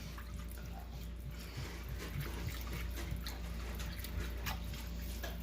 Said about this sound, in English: I just need to add water.